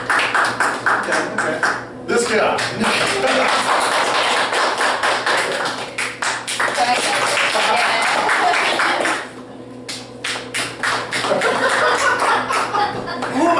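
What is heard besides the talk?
audience applause vote at comedy show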